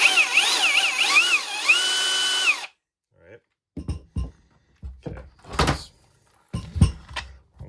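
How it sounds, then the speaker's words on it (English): A Bauer cordless 1-inch SDS-Plus drill in drill-only mode, without hammering, whines loudly and steadily for a few seconds, its pitch wavering, then stops; scattered knocks and handling clatter follow. "we got this mode that's drill only, without any hammering at all."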